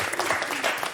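A studio audience on a French television show claps in a brief, dense burst of applause, steady and fairly close throughout the one-second moment.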